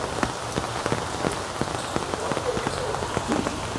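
Steady rain falls on potted garden plants and leaves on a rainy day, a close, dense patter of drops with scattered sharper splashes throughout, no talking.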